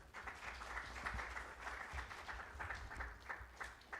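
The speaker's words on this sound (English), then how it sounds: "A big round of applause for them" Audience applause fills a room at an energy-sector stakeholder workshop in Uganda, steady and moderately loud, continuing evenly for several seconds.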